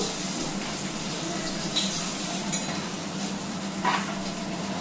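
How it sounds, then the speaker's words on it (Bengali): Hilsa fish fries in hot oil, giving a continuous crackling sizzle with light clinks of a utensil against the pan scattered throughout. "মাছটা আমি আগে ভেজে নেব।"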